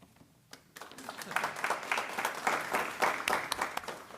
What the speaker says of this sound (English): Wow, I get an applause